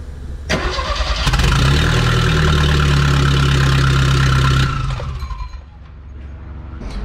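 A Porsche 924 Turbo engine with no exhaust fitted starts with a sharp catch, then runs loud and raw at a steady idle for several seconds before abruptly cutting off and fading.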